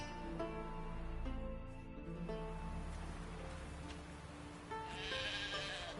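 Synthetic sheep bleats from The Witcher 3: Wild Hunt repeat over a steady layered musical background, several short wavering calls spaced across the clip, fairly loud and close.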